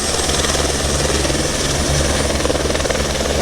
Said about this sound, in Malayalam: മൗണ്ട് കുക്ക് കാണാനുള്ള ഹെലികോപ്റ്റർ പോവുകയാണ്.